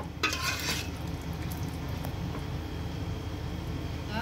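Colocasia (taro leaf) vegetables cooking in oil with a ground masala paste, giving a steady soft sizzle with occasional stirring and utensil scrapes throughout, close and continuous without talk.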